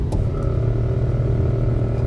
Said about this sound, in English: my pump on my car is going to make a lot of noise.